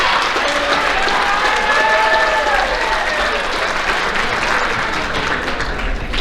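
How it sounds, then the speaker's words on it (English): Sustained applause fills a school athletic banquet hall for the JV football team, a steady dense wash of many hands clapping with faint crowd murmur, loud and even throughout. "Please give these young men a round of applause."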